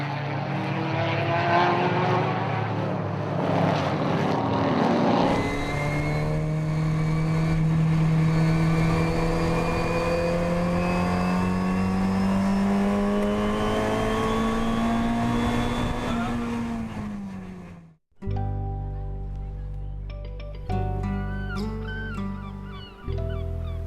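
Classic sports cars such as Cobras, Ford GT40s and Porsche 911s race past during a historic road rally, loud engine roars with rising and falling pitch as cars pass close, followed by a brief drop and more engine noise.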